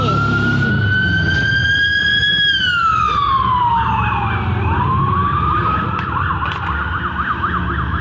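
A loud emergency siren wails steadily, its pitch sliding down and then shifting into a fast yelping warble as the vehicle passes close by.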